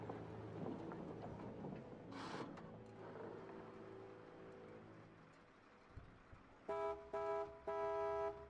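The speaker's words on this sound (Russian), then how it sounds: "Три коротких гудка!" In the video game Dying Light 2, a car horn honks three short times near the end, after low rumbling background noise in the game scene.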